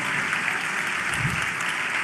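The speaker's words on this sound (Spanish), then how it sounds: "un fuerte aplauso" A crowd at an 11th anniversary celebration for Inmunotech at Xcaret, Mexico, gives a loud, dense round of applause that holds steady and close throughout, with no break.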